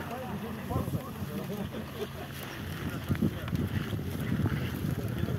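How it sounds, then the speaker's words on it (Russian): Wind blows at an outdoor winter swimming event in Yakutsk, buffeting the microphone with a constant rough rush while indistinct voices murmur underneath. "тут стоять-то спиной к ветру, поддувает"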